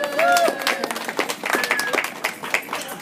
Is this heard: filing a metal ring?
no